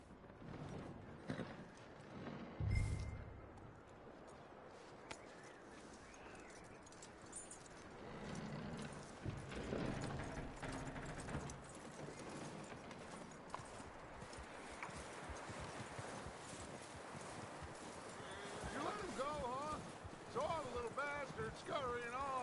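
Horse hooves clip-clop in Red Dead Redemption 2, a steady walking rhythm of soft thuds beneath a rider's voice and ambient outdoor game sound, with a louder thump early on.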